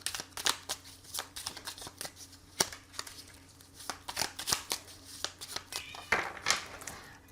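Tarot cards shuffled by hand for a reading, a close, quiet run of soft riffling flicks and slaps in irregular bursts.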